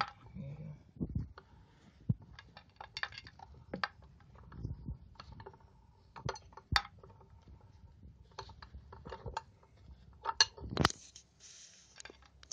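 A nut is unscrewed on a GotWay MSuper V3 S+ electric unicycle with a 1600 Wh battery, giving scattered metallic clicks, ratcheting ticks and taps of a tool at close range, fairly quiet with brief pauses.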